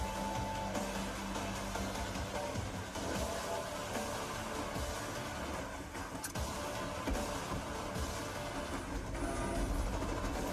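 A train in the Metro video game trailer shown at Microsoft's E3 2017 conference, a dense continuous rumble and rattle of rail cars that stays loud and steady throughout, with no speech.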